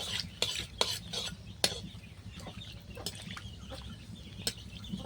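A dried red chilli dropped into hot tempering oil, with a soft continuous sizzle under sharp metallic taps and scrapes of a spoon stirring in the pan, several clicks spread across a few seconds.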